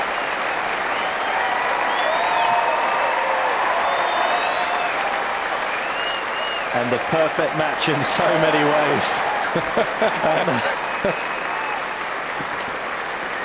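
Centre Court crowd at Wimbledon applauding tennis player Andy Roddick after a long match, loud sustained clapping throughout while a commentator talks over it midway.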